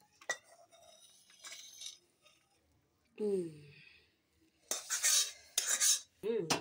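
Metal utensils clink and scrape against a pot and serving dish as a freshly cooked rui fish curry is ladled out, short bursts of clatter with pauses between, fairly close and moderately loud.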